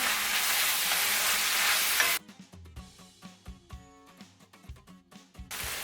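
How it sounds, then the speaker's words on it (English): Onions cook over medium heat in a pan for beef stroganoff, giving a dense, close sizzle for about two seconds before it cuts off and gives way to quieter, uneven clattering sounds. "go ahead and add in our onions. Let these cook a couple minutes, stirring regularly."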